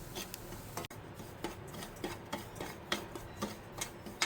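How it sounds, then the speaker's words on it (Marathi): Semolina dry-roasting in a pan over low gas, with soft scraping and stirring strokes at an irregular rhythm, close and fairly quiet. "रवा, मीडियमपेक्षा स्लो गॅसवर भाजून घ्या."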